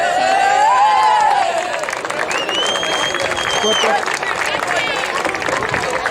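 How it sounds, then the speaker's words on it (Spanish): Steady applause from a crowd with scattered cheering at a handball trophy ceremony, a continuous dense patter that fills the whole stretch while voices carry over it. "Fuerte aplauso a los campeones"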